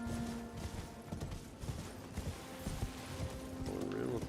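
Horse hooves clip-clopping at a steady pace in a fantasy video game, a soft rhythmic thudding under steady background game ambience and a voice talking.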